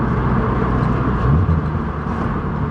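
A car engine revs through a downshift, a loud, close, continuous drone that swells slightly near the middle, with no talk.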